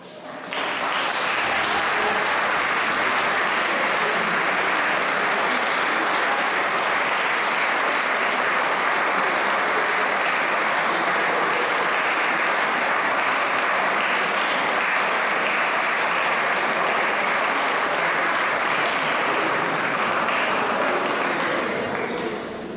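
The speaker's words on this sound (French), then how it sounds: "je vous demande de faire un tonnerre d'applaudissements à notre invité, le Père Noël, accompagné de Mère Noël" A hall audience at a Christmas concert breaks into long, sustained applause, a dense even wash of clapping that rises quickly and holds at full strength for about twenty seconds before fading slightly.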